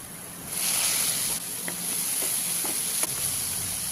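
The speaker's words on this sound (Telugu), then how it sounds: "ఆనియన్స్ కూడా వేసేసి ఆనియన్స్ కొంచెం మెత్తగైనంత వరకు ఫ్రై చేయండి" Onions frying in a pan with mushrooms hiss in a steady, close sizzle, with a few light clinks from stirring.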